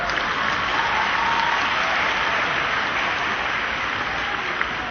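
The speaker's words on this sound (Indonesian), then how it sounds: "Ada yang tepuk tangan, ada yang tidak tepuk tangan," A church congregation applauds during an Easter sermon by a pastor, a steady, dense wash of clapping that holds evenly for several seconds with no voices over it.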